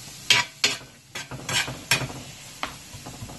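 Steaks laid back into a hot pan of buttered vegetables for pepper steak, giving a string of sharp sizzling bursts and scraping stirs at close range, each flare fading quickly, with no talk.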